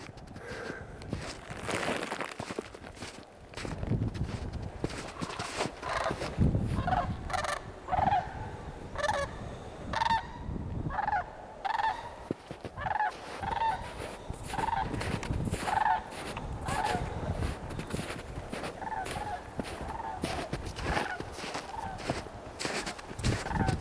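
Repeated honking goose calls, some clear and rhythmic, mixed with rustling, thumping movement and occasional talk nearby, in sand hills.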